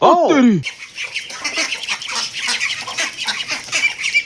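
A loud honking squawk opens, followed by a busy chatter of duck calls and flapping-like noise close by.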